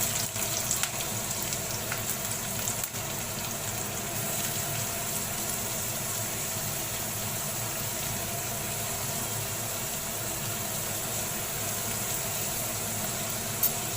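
Onion and curry leaves frying in hot oil for a dry shellfish (clam) stir-fry, a steady close sizzle and crackle holding evenly throughout with no talking.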